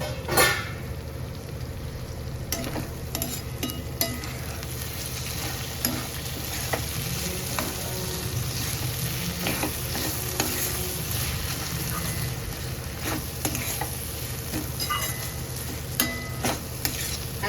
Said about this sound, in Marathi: आता झाकण उघडून बघूया आपण हे बघा मस्त शिजतंय